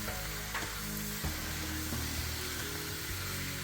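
Beef and onion frying in a hot wok, a steady close sizzle hissing continuously with a few soft stirring knocks, no voices.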